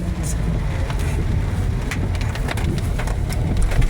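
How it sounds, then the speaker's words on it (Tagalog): Steady rain falls on a taxi in the Philippines, heard from inside as a continuous low rumble of drops and road noise with scattered sharper ticks on the roof and glass. "Kasi talagang walang tigil yung ulan."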